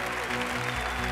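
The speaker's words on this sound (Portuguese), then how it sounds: "Vamos aplaudir o Luciano, o nosso Elvis Presley." Loud, dense applause from a TV talent show audience, a continuous roar of clapping filling the whole brief moment without letup.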